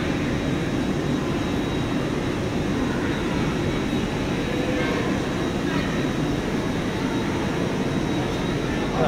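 Steady station din at Edinburgh Waverley, with the broad rumble of modern trains bound for London King's Cross idling and moving under a high roof, loud and continuous throughout, a voice speaking faintly beneath it.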